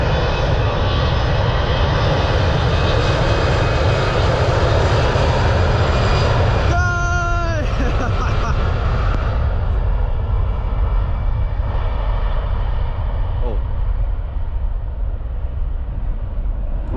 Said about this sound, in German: Flughafen von Rhodos. Eine EasyJet-Maschine.